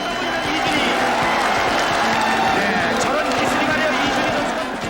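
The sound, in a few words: crowd in the stands cheering at a ssireum wrestling match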